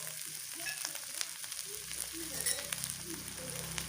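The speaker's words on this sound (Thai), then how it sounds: "คั่วพริกแกงก่อนนะครับ ผัดพริกแกง ผัดเครื่องก่อน" Red curry chili paste being dry-toasted and stir-fried in a pan, a steady close sizzle and frying crackle with a few scraping stirs throughout, no voices.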